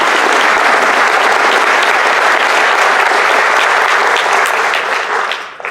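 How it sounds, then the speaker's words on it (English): A large luncheon audience bursts into sustained, loud applause for the scholar-athlete honorees, a dense wash of clapping that holds steady before tapering off at the end. "how about a hand for all our honorees today"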